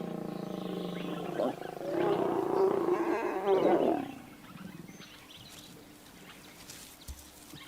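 White lions in Kruger roar and growl during mating, a loud deep burst of snarling roars lasting a couple of seconds before dropping back to quieter ambient rustle.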